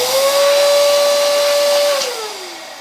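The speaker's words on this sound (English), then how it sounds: "If you chose the electric pump, then you would, same concept, put it on the nozzle" An electric pump inflates a balloon on its nozzle, a loud steady whining hiss holding one pitch for about two seconds, then sliding down and fading as the pump is released.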